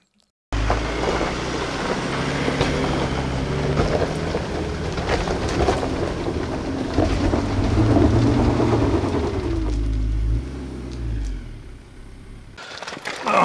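A 4x4 labours hard up a steep hill, its engine roaring loudly and continuously with rumbling drivetrain and rough-terrain noise for about ten seconds before easing off.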